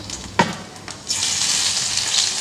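Chopped onion added to about two teaspoons of hot oil to soften lightly, starting with a clink and soft stir, then a steady close sizzle filling the rest without talk.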